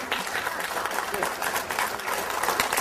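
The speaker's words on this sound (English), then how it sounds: "You can applaud." A lecture audience applauds at the end of a talk on the Gulf oil spill, a dense, steady wash of clapping filling the room, with a voice faintly mixed in.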